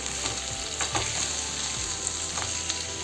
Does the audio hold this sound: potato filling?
yes